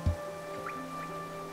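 Water dripping in a cave in the video game Hollow Knight, a few soft, separate drips over a steady humming tonal drone, faint and distant, with no voices.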